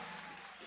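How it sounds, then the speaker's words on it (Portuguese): Brief burst of dense audience applause for a singing duo of viola cantadores from Rio Grande do Norte, a steady wash of clapping from start to finish. "Cadê os aplausos pra dupla Potiguar?"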